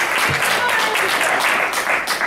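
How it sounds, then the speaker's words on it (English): A room of people at an Ann Arbor Jaycees membership meeting claps for the winners of a game, dense and loud, sustained without a break. "We're just going to give a big round of applause."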